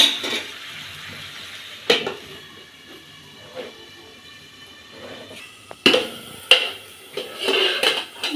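Metal cookware clanks a few times over a soft sizzle of taro stalks and jackfruit seeds, with a sharp clatter near the end as a lid settles onto a pan.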